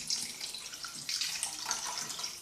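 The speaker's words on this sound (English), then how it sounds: "Then we'll pour in some water" Water from a tap or jug poured into a cooking pot over meat on a stove for a meat, peanut and okra kombo stew, a steady close splashing pour running throughout with no talking.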